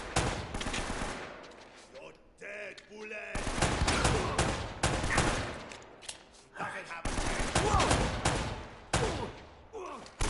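Rapid bursts of gunfire crackle through a firefight in Uncharted: Drake's Fortune, volleys starting and stopping over about ten seconds. A player's voice comes in between some of the bursts.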